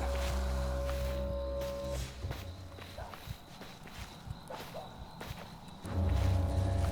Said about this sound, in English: We're hearing their footsteps.